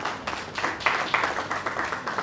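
Audience at a tech awards ceremony applauding, a short burst of moderate, fairly dense clapping that swells and then holds steady.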